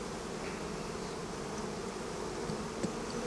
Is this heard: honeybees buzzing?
yes